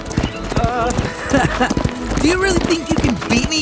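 Horse hooves clip-clop rapidly in a galloping rhythm during a horse race, close and loud, with a horse whinnying while someone speaks over the hoofbeats.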